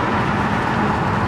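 A car that has just been repaired, no longer sounding like a loud Hellcat SRT, drives along with a steady, broad road and engine hum from inside the cabin and no sharp exhaust noise.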